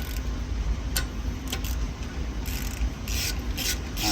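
A 6mm ratchet working a brake rotor screw on a 2020 BMW X5 G05, giving a steady close rasping grind with intermittent sharp ticks from the pawl, with no voices.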